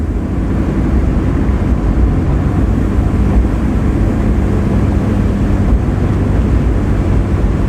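A 1992 Volvo 244 driving in second gear, engine and road noise forming a steady loud low rumble with no breaks.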